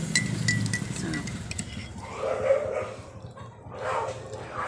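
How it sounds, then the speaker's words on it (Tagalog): Dogs barking outside on a street, a loose cluster of moderately distant barks and yips over a steady background murmur, with a voice speaking faintly underneath. "Ngayon sa mga aso sa kalsada."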